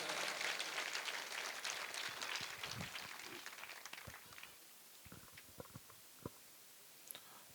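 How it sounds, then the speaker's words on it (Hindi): Audience applause welcoming a speaker at an event, a dense burst of clapping that starts strong and thins out into scattered claps. "तो भवानी सर का जोरदार तालियों के साथ स्वागत है।"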